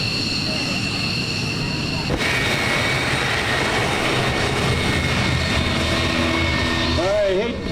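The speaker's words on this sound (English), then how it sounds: "here comes the F-15" Loud, continuous jet roar from an F-15 fighter jet passing at an air show, a steady broadband rumble that shifts partway through as the aircraft goes by, with crowd and announcer sounds mixed in.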